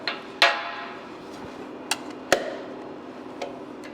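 A hammer striking a corking tool on aluminum gives a few sharp, separate metallic hits, spaced irregularly over a steady room hum, close and fairly loud with no talking.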